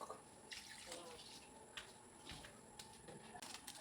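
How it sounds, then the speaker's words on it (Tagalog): Water pours steadily into a pot of chicken stew, a continuous splashing rush with a few louder sloshes along the way. "Lagyan na natin ng tubig ang ating tinulang manok."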